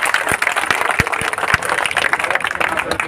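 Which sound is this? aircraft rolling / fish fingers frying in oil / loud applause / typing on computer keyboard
loud applause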